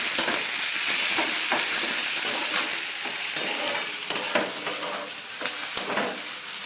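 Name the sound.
tomato being stirred and fried in a pan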